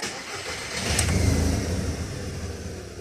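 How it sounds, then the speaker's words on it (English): A Volkswagen Golf/Jetta Mk5 engine cranks and catches, settling into a low rumbling idle close by; no distinct relay click stands out. "start the car and see which relay clicks"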